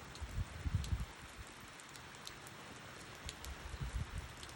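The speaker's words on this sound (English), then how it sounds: "I wish it'd rain like this 2 days." Rain falls during a wheat harvest, a faint, steady patter of drops on surfaces, with a few louder bursts near the start and the end.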